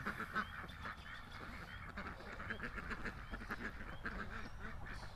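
Several ducks quack and honk in a loose chorus at a moderate distance, calls overlapping against a faint outdoor background.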